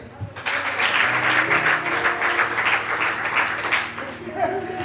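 A church congregation applauds during a sermon, a dense burst of clapping rising after a short pause and holding steady for several seconds, with voices and a preacher speaking beneath it.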